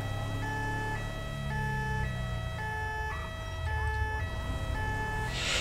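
Ambulance siren in GTA 5, a French SMUR emergency ambulance heading out on a call, wailing steadily in a repeating two-tone pattern over a low engine rumble, loud and close throughout.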